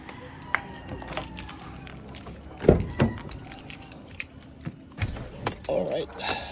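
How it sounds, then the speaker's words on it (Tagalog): Keys jangle in a car ignition as the engine is started during an oil change, with a few sharp metallic clinks and a low thump midway, while someone talks nearby. "Start. Sa susi natin."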